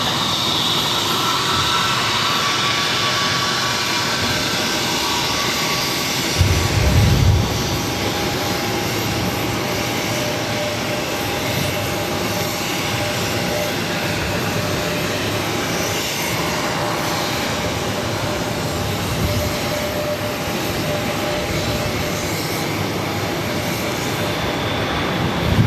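Aircraft engine noise from a Delta Airlines plane at Boston Logan forms a steady, broad roar that continues throughout, with a brief low thump near the start.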